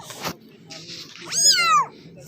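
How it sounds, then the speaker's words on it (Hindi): A small wild kitten gives a loud, close meow with a rising then falling pitch, preceded by softer rustling and faint background sounds. "छोटा सा बच्चा था बिल्ली का उसको खेल रहे हैं वो"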